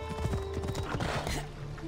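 A horse trots with rhythmic clip-clopping hooves and gives a short whinny while being ridden in the video game Assassin's Creed Odyssey, with a voice speaking faintly beneath the game sounds.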